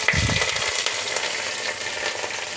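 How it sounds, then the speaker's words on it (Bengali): Bay leaf and dried red chili frying in oil at home, a steady broadband sizzle held close throughout with a brief low thump at the start, no talking. "এগুলি আমি একটু হালকা ভেজে নিচ্ছি"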